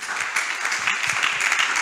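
A church congregation applauding the Lord during a sermon, a dense, steady wash of many hands clapping together, loud and close for a couple of seconds.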